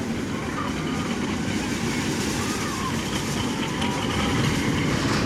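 A Boomerang roller coaster called Generator at Walibi Rhône-Alpes rumbles and clatters steadily on its track, a loud continuous rolling roar heard up close for several seconds.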